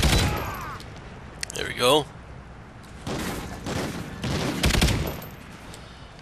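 Bursts of gunfire from the shooter game Call of Duty: Ghosts on the Sin City map, ringing out in rapid volleys with a few loud cracks, while a player talks over the shooting.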